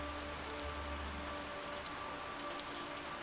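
Steady rain patters in the pixel-art stealth game Thief's Adventure, a constant even hiss of drops with a low background hum and no voices.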